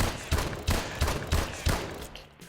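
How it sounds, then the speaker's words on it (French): Rapid pistol fire from an M1 Irons in a video game: five quick, evenly spaced loud shots over about two seconds, followed by a brief mechanical tail. "Alors les avantages c'est qu'elle tire très rapidement. Pour un pistolet franchement c'est pas mal."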